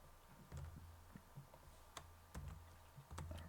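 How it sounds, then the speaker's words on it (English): Irregular bursts of clicking keys on a computer keyboard, quiet and close, with short pauses between runs of typing. "typing it in."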